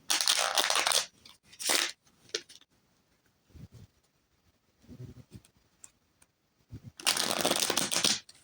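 Tarot cards are riffled and shuffled by hand in several brisk crisp bursts, close up, with quiet pauses and soft handling noises between them and no talk.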